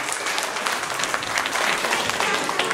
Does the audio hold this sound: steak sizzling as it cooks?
no